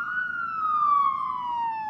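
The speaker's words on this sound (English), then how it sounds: "What's with the siren?" Siren of a police car in The Simpsons cartoon: one steady, slowly falling wail, moderately loud and alone, over a faint engine hum.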